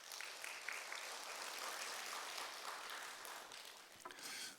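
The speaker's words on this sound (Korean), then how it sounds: "우리 하나님께 영광의 박수 올리겠습니다" A church congregation at a Wednesday prayer service claps in praise to God, a dense, even wash of applause lasting several seconds and fading near the end.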